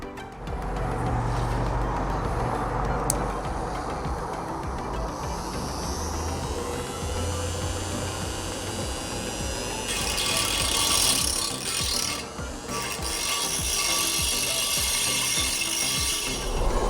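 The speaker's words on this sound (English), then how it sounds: "Let's see if this little rotary tool is a match for cutting this clay pot here." A small rotary tool grinds and cuts into a clay pot being made into a budget tandoor oven, producing a continuous gritty buzzing with a harsher, brighter stretch of cutting toward the end.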